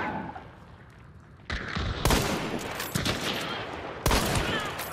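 Gunfire in the video game Hunt, a sudden loud burst followed by sharp repeated shots and crackling echoes, close and heavy, with no talk over it.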